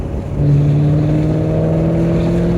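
A C5 Z06 Corvette accelerates hard at full throttle, its engine a loud, steady, rising drone heard from close by and alone, with no talk over it.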